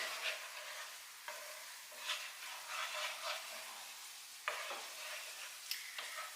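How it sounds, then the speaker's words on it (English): Mushroom stuffing sautés in a pan with a soft, continuous sizzle, punctuated by repeated scraping stirs and a few sharp utensil clicks at close range. "while I'm sauteing this"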